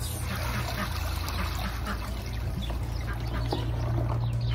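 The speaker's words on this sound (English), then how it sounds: "Oh, there's a duck." Duck quacking outdoors near a pond on a farm, with several short calls scattered over a steady background of trickling water and low hum, and a voice faintly present.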